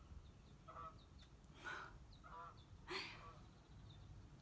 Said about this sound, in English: Okay, we got something quacking over there.